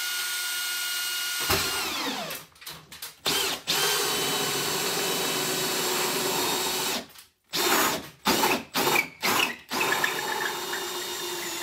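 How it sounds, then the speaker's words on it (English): A cordless drill on slow mode runs an auger bit through timber battens in a steady grinding whir, broken by several short stops and restarts near the end. "This makes it easy for the auger bit to go through."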